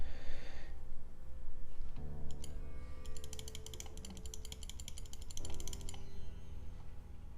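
Rapid computer keyboard typing in a live show setting: a dense burst of crisp keystroke clicks runs through the middle of the clip over a steady low background hum, with no talking.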